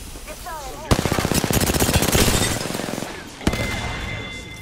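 Rapid automatic gunfire in Apex Legends striking the player, a dense burst of close, loud shots lasting about two and a half seconds, followed by a single sharp hit and a lingering electronic tone, with game voice chatter in the background.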